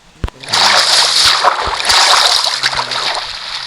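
Splashing and sloshing water in a Minecraft-style trial chambers game, a broad continuous wash of splatter lasting several seconds with brief clicks and soft game tones underneath.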